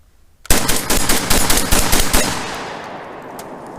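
Rock Island Armory VRBP-100 12 gauge bullpup shotgun fired rapidly outdoors, about nine loud, close booming shots in a quick uneven string that then fade into a lingering echo.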